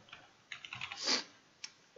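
Quiet clicks of typing on a computer keyboard, a few scattered keystrokes and a short burst, close and alone.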